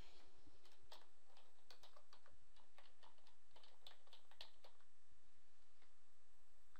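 Quiet clicking of a computer keyboard as a file name is typed, an irregular run of light keystrokes over a faint steady background hum.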